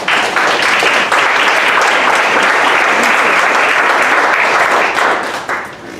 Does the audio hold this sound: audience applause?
yes